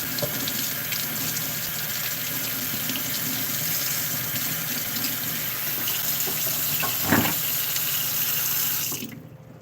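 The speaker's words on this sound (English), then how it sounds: "Let's get it rinsed off." A kitchen tap runs steadily, rinsing something off under the stream in a sink, a loud continuous gush with a brief clatter near the end before the flow cuts off.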